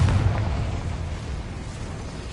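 A Confringo blasting spell explodes in the video game Hogwarts Legacy, a heavy, deep boom that hits hard at the start and then fades into a long rumbling tail, alone with no voices.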